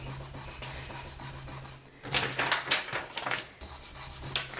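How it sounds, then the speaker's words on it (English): Fingers burnish polymer clay through a sheet of plain printing paper, giving soft, faint rubbing strokes that turn brisker and scratchier in the second half, over a low steady hum. "I'm just going to bring over a piece of plain printing paper, and I'm going to sit here and I'm going to burnish"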